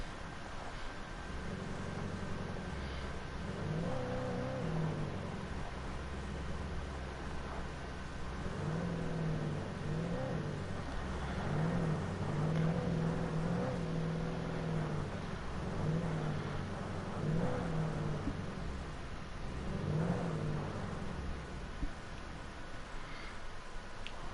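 A car from Alan Wake Remastered drives along, its engine humming steadily and swelling in repeated revving surges that rise and fall, moderately quiet and alone without talk.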